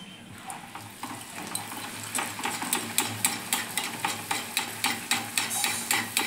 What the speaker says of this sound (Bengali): লাল লাল করে ভেজে নিচ্ছি।